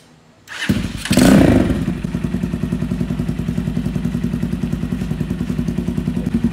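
A modified Screamer 250 motorcycle with a custom full-system exhaust starts with a loud clattering catch, then settles into a steady, throbbing idle with a deep, rhythmic exhaust pulse, close by.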